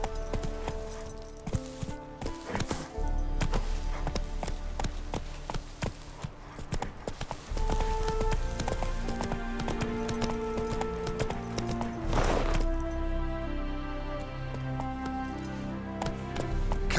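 Horse hooves clip-clop at a gallop in The Witcher 3, a steady rhythmic pounding under game music, with a brief whoosh near the middle and no speech.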